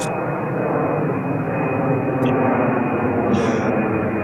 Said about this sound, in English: This is a Boeing 767-332, and the age of this aircraft is 24 years old.